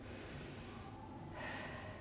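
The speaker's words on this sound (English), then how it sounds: "You're going to take a deep breath in through the nose" A deep inhale drawn in through the nose during a guided posture-and-breathing exercise, a steady airy rush lasting about two seconds, close and fairly quiet, with no talking over it.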